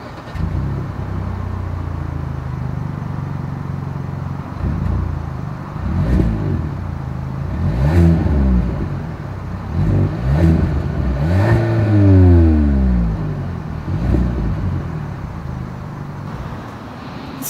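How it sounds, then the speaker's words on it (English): A 2022 Kia K5 AWD sedan's engine revs repeatedly through its exhaust, rising and falling in several throaty bursts over a steady idle, close and fairly loud. "Here is that exhaust clip."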